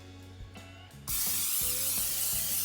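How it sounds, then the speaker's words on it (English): A can of non-stick canola oil cooking spray lets out one steady, loud hiss lasting about a second and a half, close by. Quiet music plays under it. "I'm going to give it a quick spray."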